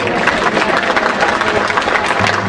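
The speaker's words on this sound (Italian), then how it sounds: "Un altro applauso." A crowd applauds at an international team award ceremony, producing a loud, continuous wash of clapping with some murmuring mixed in.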